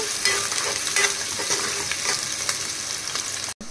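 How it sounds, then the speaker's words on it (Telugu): Onions sizzling in hot oil in a pan for a Telugu country chicken curry, a dense, steady crackling hiss up close with a few stirring bumps, cutting off abruptly near the end. "ఆయిల్ వేడెక్కిందండి. ఆనియన్స్ వేస్తున్నా."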